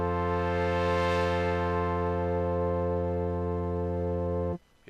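A Subtractor synthesizer patch with filter envelope modulation holds one sustained rich buzzy tone for about four and a half seconds, its brightness sweeping up and then down, before cutting off abruptly into near silence.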